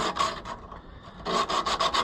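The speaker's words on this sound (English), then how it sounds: "I'm just going to give it a quick, gentle sanding" Rapid back-and-forth rasping strokes of hand sanding with emery cloth on an Oliver 1365 tractor part, a short burst, a pause, then a quicker run of about six strokes, close and clear.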